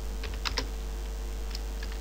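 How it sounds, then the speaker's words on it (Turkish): Someone touch-types code on a computer keyboard, producing a few scattered, soft key clicks close by over a steady low electrical hum. "Ben ekrana şu anda klavyeye bakmadan yazıyorum."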